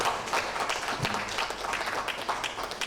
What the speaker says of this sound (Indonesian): mari kita kasih aplaus kepada beliau ya